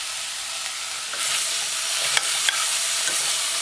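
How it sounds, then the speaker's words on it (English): Vegetables and red cabbage sauteing in a saucepan, giving a steady, bright hiss of frying, close and fairly loud, with a few soft stirring clicks and scrapes; no talking. "The vegetables are still sauteing on the bottom."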